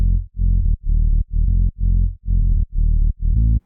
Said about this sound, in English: To create the siren, I used a triangle wave from Basic Shapes in Serum with a little bit of distortion